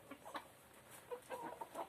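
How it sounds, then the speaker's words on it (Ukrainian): Faint chickens cluck softly in short scattered bursts over a steady background hiss, heard from a little distance in a garden. "От такі в мене курочки, друзі"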